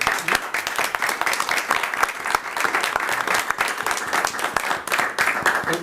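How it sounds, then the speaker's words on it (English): An audience at a school committee meeting applauds a girls' volleyball team, many hands clapping steadily and fairly loud for several seconds with crowd noise underneath. "if we could give them a round of applause as well"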